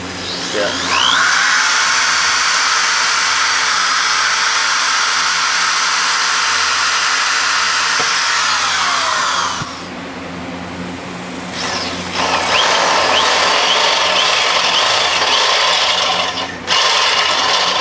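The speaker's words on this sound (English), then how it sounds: "We need to drill up on this one a little bit." A power drill whines steadily while working a part on a Harley-Davidson FXE Shovelhead chopper, running loud and continuous with a brief pause partway through before starting up again.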